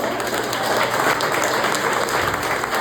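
A church congregation applauds during a women's day seminar, steady dense clapping filling the room at a constant loud level throughout, with no voices standing out.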